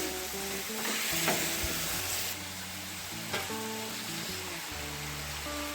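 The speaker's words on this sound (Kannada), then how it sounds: "ಈರುಳ್ಳಿ ಟೊಮೆಟೊ ಚೆನ್ನಾಗಿ ಫ್ರೈ ಆಗಿದೆ ಈಗ" Onion and tomato fry in a pan for chutney with a steady broadband sizzle and occasional stirring clatter, while a faint tonal hum runs underneath throughout.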